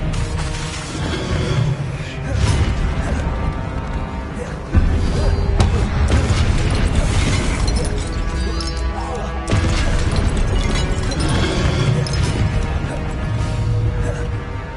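Fiery Confringo spell blasts in a Hogwarts video game, loud crashing impacts and booms in a busy battle mix, with a voice calling out spell names between hits.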